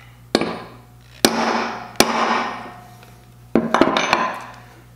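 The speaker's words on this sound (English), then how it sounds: "center punch right on that 1 inch line" A hammer strikes a center punch into metal four times, each sharp metallic crack close and loud with a short ringing decay, the hits spaced irregularly about a second apart, the last a quick double tap.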